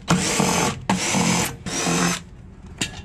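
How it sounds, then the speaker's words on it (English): Power driver fitted with a Torx bit backing screws out of scrap metal, three loud whirring bursts with short pauses between and a brief final blip, close up with no talking. "We gotta get in here with the Torx bit."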